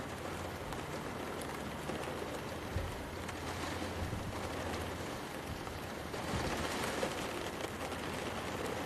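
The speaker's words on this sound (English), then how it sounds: "Absolutely pouring with rain at the moment." Heavy rain pours down outside Leeds Bradford Airport amid strong gusting winds, a dense unbroken hiss of drops that swells slightly toward the end, with no voices over it.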